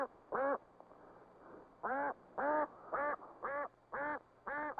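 Domestic ducks on a Long Island duck farm quack loudly and close by, about seven harsh, evenly spaced calls in a steady rhythm over a quiet background.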